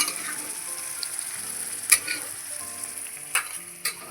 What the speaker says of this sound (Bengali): তেলটা গরম হয়ে গেছে তো, এদিকে কুমড়োর বীজটা কিন্তু ভাজা হয়ে গেছে